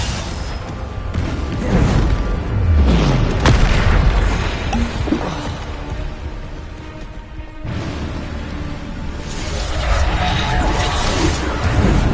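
Spell explosions from a Bombarda cast in Hogwarts Legacy, with heavy booming blasts, bursts and whooshes rolling across the scene, loud and close, layered over continuous game effects.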